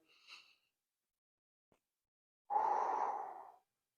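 A deep breath during a seated golf stretch routine: a short faint breath at first, then after a pause a long, close, audible exhale lasting about a second.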